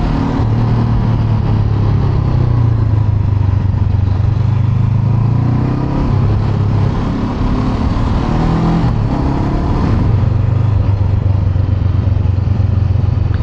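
A 2021 Honda CB500X motorcycle descends a winding mountain pass road, its engine droning steadily and loud throughout, pitch shifting slightly as it eases off and picks up through bends, with wind rush over the top.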